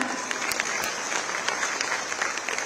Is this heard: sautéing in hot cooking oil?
no